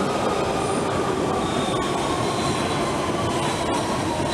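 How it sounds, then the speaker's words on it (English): A London Underground Central Line train arrives with a constant loud rail rumble and a thin wheel squeal running throughout. "So another Central Line train is just coming in."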